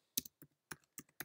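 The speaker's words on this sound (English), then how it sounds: "it's typing out" Typing on a computer keyboard: a quick run of about six crisp, close keystrokes in an irregular rhythm, faint and alone with no voice.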